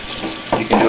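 Algae scrubber being rinsed under a running tap, a steady broadband water hiss that swells louder in two bursts near the end, with no talking.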